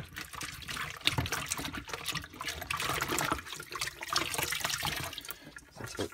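Water runs and splashes while Dyson DC41 vacuum cyclone parts are rinsed under a tap, a steady close gushing and trickling with small splashes throughout.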